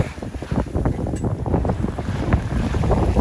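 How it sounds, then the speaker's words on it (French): Southerly wind blowing over a sailboat at sea, a steady rushing gust buffeting close against the microphone with the wash of water underneath and no voices. "Vent du sud."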